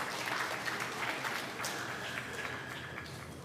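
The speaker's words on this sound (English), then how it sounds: "All right, let's give them a round of applause as the student comes" Steady audience applause greets a student at a schools' Black History elocution contest, a dense, even clapping that holds at moderate level throughout, with faint voices mixed in.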